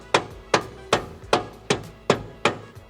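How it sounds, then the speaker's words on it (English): Mallet strikes seating a rear suspension arm on a Nissan 350Z, seven sharp, evenly spaced knocks about half a second apart, close and clear with no talk. "Get our mallet again."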